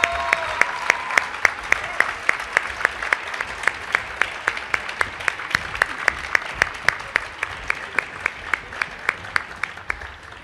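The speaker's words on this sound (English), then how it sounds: "Would you please join me again in one more round of applause for the Matthew Hinson Middle School?" An audience gives a round of applause for a middle school choir on stage, with broad steady clapping and one close, loud clapper keeping a regular beat above the rest.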